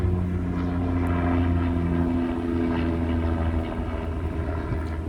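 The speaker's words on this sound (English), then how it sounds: "helicopter going over" A helicopter passes overhead in a steady, loud low rotor drone that holds for several seconds and drowns out quieter background sound, with no talking over it.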